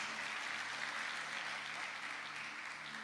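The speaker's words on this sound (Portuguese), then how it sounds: "Uma salva de palmas para ele, em nome de Jesus." A church congregation gives sustained applause for a guest speaker, a dense steady wash of clapping hands lasting throughout at even volume.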